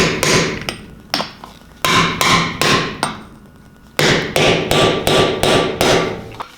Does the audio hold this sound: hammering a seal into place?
yes